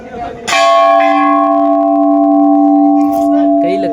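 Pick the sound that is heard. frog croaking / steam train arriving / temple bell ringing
temple bell ringing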